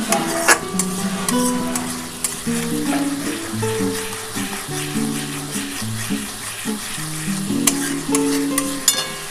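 Katla fish curry masala with green chillies and a splash of water fries in a pan, a continuous sizzle broken by sharp stirring clicks, with soft melodic music playing underneath.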